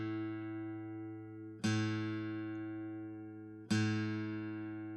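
An electric guitar string plucked and left ringing through a pedal tuner, struck twice in a quiet room, each note decaying slowly with rich overtones.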